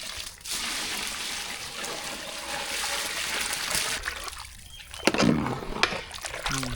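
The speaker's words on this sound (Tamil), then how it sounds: "பிரியாணிக்கு இப்போ தண்ணி சேர்த்துக்கலாம்" Water poured into a pot of chicken biryani while it cooks at home, a steady trickling and splashing that runs for several seconds, fairly close, with brief clinks near the end and no talk over it.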